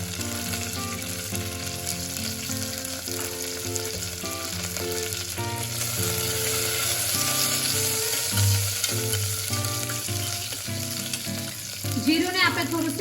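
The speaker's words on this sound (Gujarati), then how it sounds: "જીરુંને આપણે થોડું શેકાવા દઈશું" Cumin seeds sizzle and roast in a spoonful of hot oil with curry leaves in a pressure cooker on a gas stove, a steady close crackling hiss with stirring scrapes throughout and no talking.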